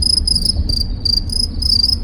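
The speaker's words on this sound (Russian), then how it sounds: "Вы слушали великое произведение оратория Сверчковского на радио Сверчки ФМ" Crickets chirping loudly and close in rapid pulsed bursts, several overlapping trills repeating steadily with no voices.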